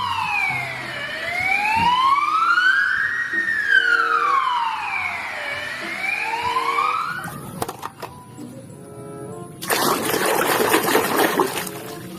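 A toy ambulance siren wails in a steady rising-and-falling electronic tone, loud and close, then cuts off into clattering handling noises and a burst of running water.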